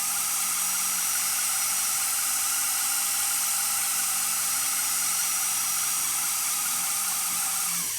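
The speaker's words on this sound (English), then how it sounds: "You want to go straight down with your drill." A drill bores straight down through metal while making bar earrings, a loud, continuous high-pitched whine holding steady for the whole stretch with no voices.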